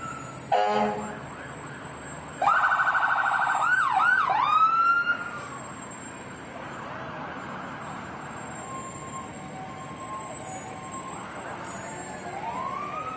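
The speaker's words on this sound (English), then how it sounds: "aren't we glad that they don't turn all the sirens on at the same time?" Emergency vehicle sirens sound during a Fourth of July parade in Cannon Falls, with a short burst followed by a loud rising and falling wail that fades into softer siren tones and street ambience.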